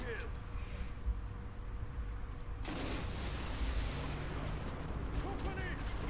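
Gunfire from a shotgun in the mobile shooter Modern Combat 5: Blackout, a dense burst of blasts and battle noise setting in partway through and continuing loudly, with game ambience and a faint voice earlier.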